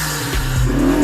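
A car engine revs up loudly and close, the deep rumble rising in pitch and intensity over about a second.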